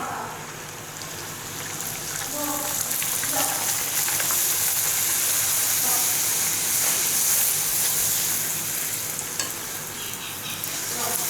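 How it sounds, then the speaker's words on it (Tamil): Rolled puri made from vegetable chapathi dough deep-fries in hot oil. A loud, steady, hissing sizzle carries on throughout, with a bubbling crackle that builds slightly and then holds. "ஸோ இப்போ நம்ம இதை எண்ணெயில் ஃப்ரை பண்ணி எடுத்துடலாம்"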